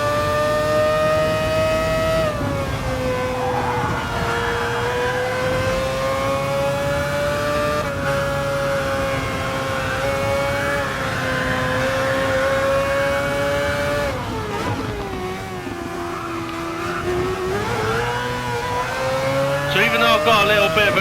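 Mazda 787 race car in a racing video game at Fuji's short circuit, its engine howling at a sustained high pitch that dips during shifts and braking and climbs again, with someone talking over it.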